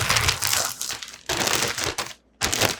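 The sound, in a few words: putting a hat into a plastic bag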